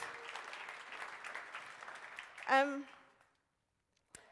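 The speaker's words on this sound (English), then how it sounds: "So please can we have a round of applause for them as well." Audience applause for colleagues at an English language conference, moderate clapping that swells briefly as a voice calls out, then cuts off into silence.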